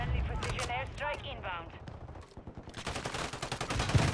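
In a shooter video game, bursts of gunfire hit the player, a rapid string of sharp shots that grows denser toward the end. Voices and game sounds come in the first half.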